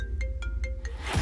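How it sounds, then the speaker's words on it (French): A phone ringtone rings in the horror video game Obscura, four short evenly spaced electronic tones in quick succession, loud and close over a low droning background, with no talk. "Comment il sait que mon téléphone il sonne là?"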